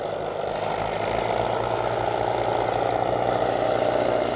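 A Doe Triple D ploughing tractor in orange and blue livery runs steadily at a country ploughing event in Nottinghamshire, its deep, throbbing engine note constant and fairly close, with no talk over it.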